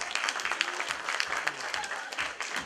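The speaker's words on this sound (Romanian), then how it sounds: "Aplauze și mulțumim frumos!" A crowd at a Romanian folklore ensemble awards event claps steadily, the dense patter of many hands continuing throughout at moderate loudness, with no talking over it.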